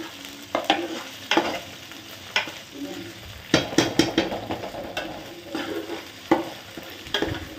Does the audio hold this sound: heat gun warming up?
no